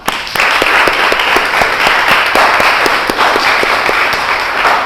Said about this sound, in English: Hey, round of applause for that.